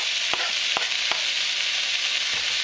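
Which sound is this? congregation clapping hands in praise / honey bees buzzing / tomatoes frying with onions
tomatoes frying with onions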